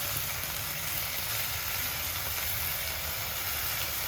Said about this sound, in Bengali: দিয়ে এবার এটা ভালো করে ভেজে নিতে হবে